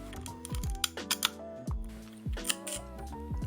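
Several mechanical clicks and whirring snaps of an old Kodak Retina rangefinder camera shutter firing, slow to close at low speeds, each release followed by a short pause.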